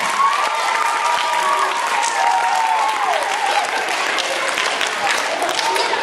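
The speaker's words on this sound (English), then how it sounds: "Let's give them a round of applause." An elementary school assembly crowd claps loudly for students who raised money in a pie fundraiser, with sustained applause, a few cheers and voices mixed in.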